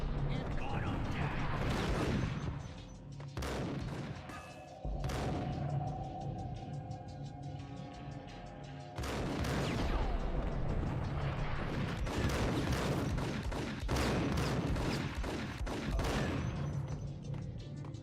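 Gunfire in the PC game Max Payne: repeated sharp shots and dense bursts over a sustained, loud backdrop of in-game noise, with someone talking over the action.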